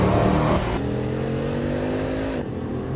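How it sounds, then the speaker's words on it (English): A Bugatti Veyron Super Sport, 1,200-horsepower supercar, roaring close and loud as it accelerates, its engine note climbing steadily through a gear change, then dropping slightly at the end. "The Bugatti Veyron Supersport"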